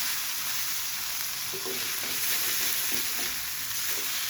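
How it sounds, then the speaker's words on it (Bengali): Bottle gourd peel, potato and carrot fry in a pan with a steady, even hiss of sizzling oil, punctuated by soft scraping stirs near the middle. "ভাজাটা প্রায় হয়ে এসেছে আর একটুখানি ভাজা ভাজা হলে আমি নামিয়ে গরম গরম পরিবেশন করব"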